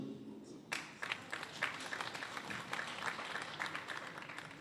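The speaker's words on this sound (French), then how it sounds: "comme il y a des officiers ici, on va les applaudir" An audience applauds officers at a health-sector event in Burundi, a fairly faint burst of clapping with distinct individual claps standing out, under a quiet room.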